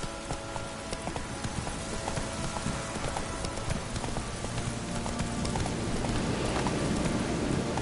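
Hooves of the horse Roach clip-clop in a steady trot across ground in The Witcher 3, close and rhythmic throughout, with a soft patter like rain beneath and the beat growing slightly denser toward the end.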